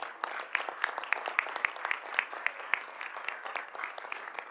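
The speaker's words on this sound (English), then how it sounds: "one more round of applause for these great teachers right here." A crowd at a school board of education meeting applauds steadily, dense clapping with a few sharper claps standing out, sustained for several seconds at moderate distance.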